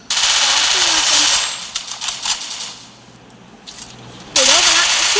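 Counter-Strike gunfire rattles in rapid automatic bursts, loud and close, with quieter stretches between volleys while someone talks over the gameplay.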